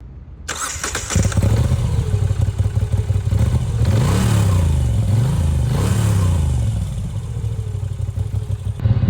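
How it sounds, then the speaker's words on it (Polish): A Moto Guzzi V7 Sport motorcycle engine starts up and idles with a deep, uneven rumble, revving a few times before settling. "to co najważniejsze w tym motocyklu, to jego brzmienie. Niepowtarzalne."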